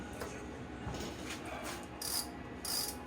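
The ratcheting, clicking mechanism of an SX-RK3 bicycle hub sounds as a part is unscrewed by hand, with brief metallic clicks and scrapes, quiet and close.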